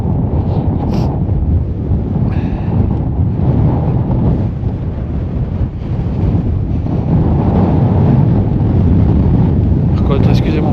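Strong wind buffets the microphone continuously on a mountain hike near Étang d'Ayès in Ariège, a loud low rumble throughout with a few faint voice fragments underneath.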